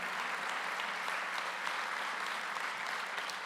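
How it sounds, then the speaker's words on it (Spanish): Steady applause from a church conference audience, a continuous wash of clapping heard from some distance, fairly soft and unbroken from start to finish. "Da un aplauso al Señor"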